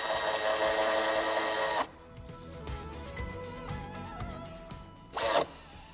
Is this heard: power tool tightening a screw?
yes